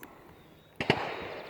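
One sharp crack from a Squires Bingham Model 16 .22 LR rifle, a single close, loud report with a short tail, and no one speaking.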